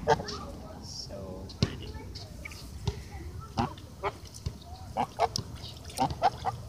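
A pet goose plays in a puddle at a playground, letting out repeated honks in scattered bursts, some near and loud, mixed with splashing, outdoor background noise and a person talking at intervals.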